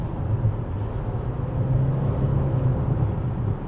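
An Alfa Romeo Tonale on the move, a steady low engine and road drone with heavy tyre rumble heard from inside the cabin, constant and moderately loud with no speech.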